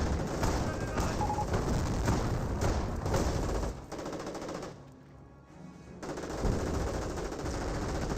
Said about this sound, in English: And now we do have the Knights crossroads seeing some Bofors fire.